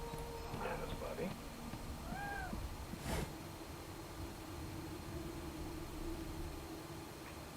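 A cat in Divinity: Original Sin 2 gives a short rising-and-falling meow, followed by a sharp click, over a game's ambient background with speech around it.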